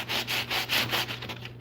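Rhythmic back-and-forth sanding of glued wood filling cracks, about six steady rubbing strokes close up with a low hum underneath, no talking.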